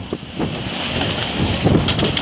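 Strong windstorm gusting at up to 180 km/h on a city avenue in Arcoverde, Pernambuco, roaring and buffeting a nearby microphone in loud continuous bursts.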